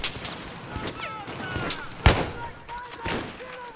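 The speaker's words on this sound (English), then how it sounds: "That was a bullet." Gunfire in the Battlefield 3 beta, a scatter of sharp shots and bursts with one loud close crack near the middle, set against busy game ambience and distant battle noise.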